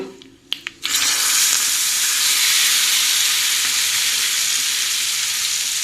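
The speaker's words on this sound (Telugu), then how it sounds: "ఇప్పుడు మన పోపుని దీనిలో యాడ్ చేసేసుకుందాం" A hot tempering is added to tangy raw mango pulusu and erupts into a loud, sustained sizzle right after a couple of sharp clinks, then a steady close-up hiss and crackle that continues alone.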